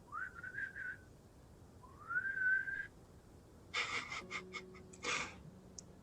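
A person whistles to imitate the call of a wood elf pigeon, giving two rising, warbling notes, then a pause and a burst of breathy, gasping sounds close to the microphone.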